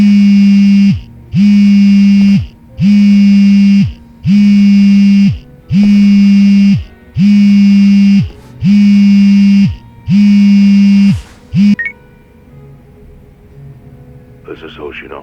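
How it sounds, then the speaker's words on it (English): A phone in Yakuza: Like a Dragon buzzes loudly in eight regular, evenly spaced pulses of a harsh low drone, then stops abruptly and gives way to quiet background with a faint rising tone at the end. "That's your phone."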